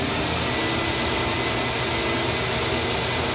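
An engine runs through a stainless steel muffler on a flow comparison setup, producing a loud, steady broadband roar and hiss without variation for the whole few seconds.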